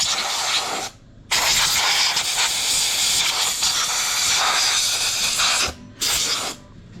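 Loud, steady compressed-air hiss from an air gun blasting debris out of a Toyota 2JZ engine during disassembly, running in long continuous bursts with two brief pauses between sprays.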